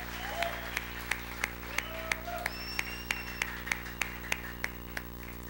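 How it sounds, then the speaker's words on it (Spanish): A church congregation claps in steady rhythmic beats, sharp regular hits sounding close over a sustained hum, with background voices and a brief whistle-like tone. "Dele un aplauso al Señor"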